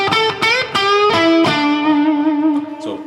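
Gibson Les Paul electric guitar played with distortion while the tone knob is adjusted, several strummed chords ringing out with bright, buzzing overtones and then sustaining as the tone shifts.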